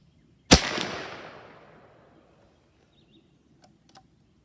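A single sharp report from an AirForce Texan .308 air rifle cracks out close and loud, then fades with a long echoing tail over about a second and a half, followed by faint small clicks.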